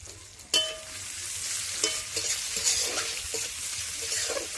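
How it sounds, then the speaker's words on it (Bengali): Onion and chopped green chilli fry in hot oil in a wok for street-style chowmein, a steady close sizzle with a sharp burst as the chilli goes in and scraping stir strokes throughout. "পেঁয়াজ দিয়ে ভাজা ভাজা করে নিয়ে আমি দিয়ে দিচ্ছি লঙ্কা কুচি।"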